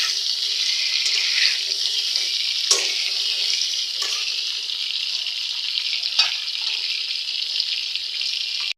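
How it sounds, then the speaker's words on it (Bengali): Eggs frying in a pan with turmeric and salt, a steady bright sizzle running throughout with a few sharper crackles and spatters, close and alone with no talking. "ডিমগুলো একদম লাল লাল করে ভাজবো।"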